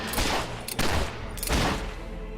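Gunfire in Fable 3, a few loud close shots and bursts spaced irregularly across a dense, noisy game soundscape.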